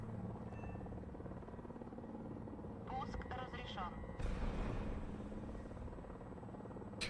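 Helicopter in the War Thunder video game, a steady low rotor drone throughout with a sharper burst midway, while people talk over it.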